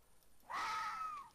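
A single drawn-out ocelot meow from Minecraft, moderately loud, rising then slowly falling, with no talking.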